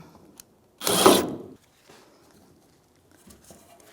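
A screw being snugged down on the rear fuel tank filler neck of a 1992-1996 Ford F-150 gives one short, close ratcheting burst, then a few faint clicks follow.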